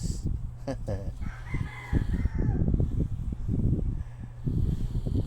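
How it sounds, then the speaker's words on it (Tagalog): A rooster crows and chickens cluck close by on a rainy day amid steady background noise and a faint voice. "Magpapakain pa ako ng manok ko."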